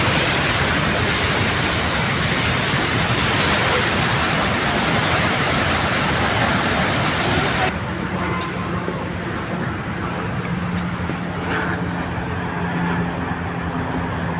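Surf on the beach at David Livingstone Island gives a steady, dense wash of broadband noise throughout, loud at first and then somewhat softer and duller after the midpoint, with no distinct individual wave breaks.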